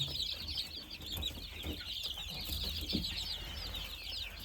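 Newly hatched chicks, including a black-skinned one from a green egg and crested ones, peep in a steady, busy high-pitched chorus on a farm, with soft low rumbling underneath.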